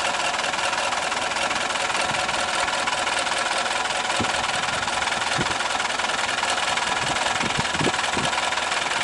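A car engine idles low and rough, worn-out engine mounts letting it vibrate and knock; a steady mid-low drone runs throughout, with a few dull thumps along the way, and no talking.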